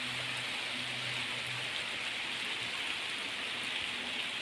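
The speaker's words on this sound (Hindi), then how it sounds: "ये देखो बारिश हो रही है" Steady rain pours down, a continuous even hiss of drops hitting surfaces close by, with no voices.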